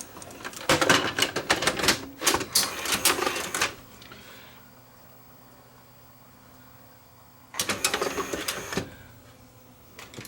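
A Sony UVW1400 Betacam SP VCR's failing tape transport clatters in two bursts of rapid mechanical ticking and whirring, a long busy stretch then a short one after a quiet pause, close and fairly loud.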